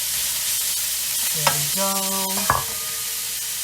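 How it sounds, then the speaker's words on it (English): Beef browning in a frying pan, a steady close hiss of sizzling fat with a few scraping stirs, while a voice speaks briefly. "Just brown up the beef a little bit."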